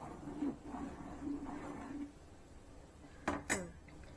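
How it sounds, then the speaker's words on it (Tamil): A spoon gently stirs fish curry (meen kulambu) in a cooking pot over a low flame, giving two sharp metallic clinks near the end over a soft, muffled kitchen background. "லைட்டாக பொறுமையாக கிளறணும்."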